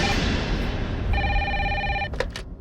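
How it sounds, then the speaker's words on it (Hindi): An official police landline telephone rings with a loud electronic trill in repeated short bursts over a noisy room background, close to the listener. "कैसा फोन है, फिर भी बज रही है।"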